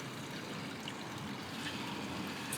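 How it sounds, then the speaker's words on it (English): Liquid steadily draining and trickling out of a mash tun during a German Helles home brew, a continuous soft watery rush at a fairly even level with no voices. "Let that do some draining out."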